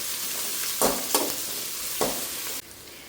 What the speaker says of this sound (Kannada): ಇವಾಗ ಇದಕ್ಕೆ ಕರಿಬೇವು ಮತ್ತು ಬೆಳ್ಳುಳ್ಳಿ ಫ್ರೈ ಮಾಡ್ಕೊಂಡಾದ್ಮೇಲೆ ಈರುಳ್ಳಿ ಹಾಕ್ಕೊಂಡಿದ್ದೀನಿ.